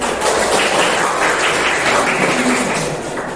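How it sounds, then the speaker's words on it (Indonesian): A classroom of students applauds together, a dense, loud wash of clapping that carries on steadily with no break and tapers slightly at the end. "terima kasih berikan tepuk"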